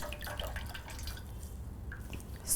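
Water drips and trickles from a sponge cloth squeezed out during a bed bath, a scatter of small close drips over a low steady background hum.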